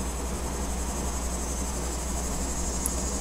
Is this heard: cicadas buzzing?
yes